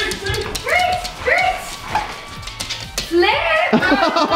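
Several dogs whimper, yip and give short barks while eager for treats, high whiny cries and yelps repeating close by, with people talking over them.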